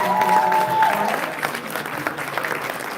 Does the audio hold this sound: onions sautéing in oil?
no